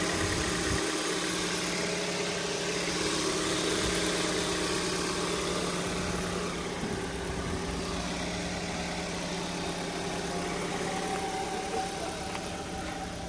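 Used grey metallic Kia Cerato car idling, a steady low engine hum with a faint constant drone, heard from close by and without any voices.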